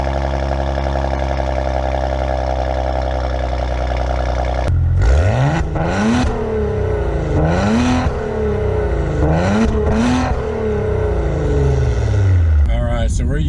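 A 2019 Maserati Ghibli, used and in sport manual mode, starts and pulls away. A steady low idle gives way to repeated rising engine revs as it shifts through gears, loud and close, with a voice talking over it.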